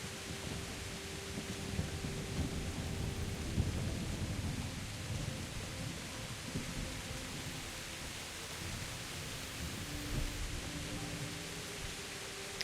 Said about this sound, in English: Oof, it's rainy.